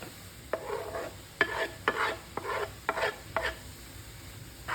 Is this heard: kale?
yes